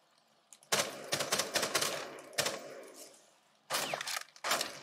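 Rapid computer keyboard typing and key clatter during a Rainbow Six Siege match, loud and close in dense bursts separated by brief pauses, with no talk.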